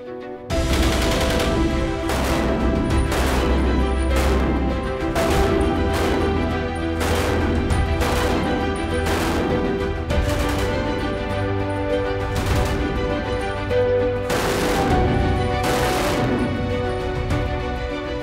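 An M1918A2 BAR automatic rifle fires again and again in loud, sharp bursts, the reports repeating steadily across the whole stretch over a continuous low rumble, with no voices.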